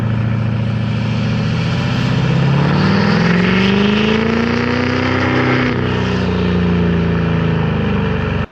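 An LML Duramax diesel truck engine with a delete kit revs up steadily on a dynamometer run, loud and close, its pitch rising and holding through a sustained pull before cutting off abruptly.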